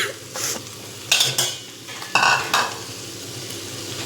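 Chopped okra is stir-fried in oil in a kadai, with a soft sizzle beneath a few sharp utensil scrapes and stirring strokes, close by and without talk.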